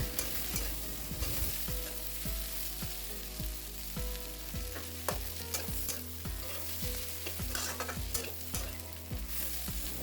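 Pigeon meat curry fries in hot oil in a covered pan, with a steady loud sizzle and crackle throughout and a regular clanking of the stirring spoon or lid against the pan in the second half.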